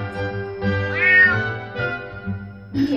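A group of five cats living in a cat village in Houtong meow several times, loud and close, with drawn-out, rising and falling cries separated by short pauses.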